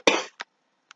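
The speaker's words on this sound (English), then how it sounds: "Why did I have to cough right in the middle of the goddamn video?" A single sharp cough, loud and close, followed by two much shorter, fainter coughs or throat sounds trailing off into quiet.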